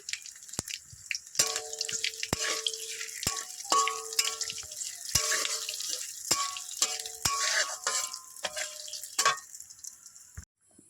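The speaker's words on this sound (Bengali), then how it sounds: "এই তেলের ভিতরে দিয়ে দেবো 5 ফোড়ন, দিয়ে দেবো গোটা শুকনো লঙ্কা, তেজপাতা" Panch phoron, whole dried red chillies and bay leaf hit hot oil and crackle with sharp, scattered pops and spits over a light sizzle. The sound is close and continuous for about ten seconds.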